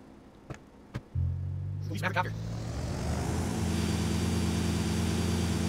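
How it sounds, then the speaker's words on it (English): Helicopter in GTA Vice City, a steady low engine and rotor drone that starts abruptly and continues, growing into a fuller roar with broadband rush, preceded by a couple of faint clicks. "There's a fucking helicopter here."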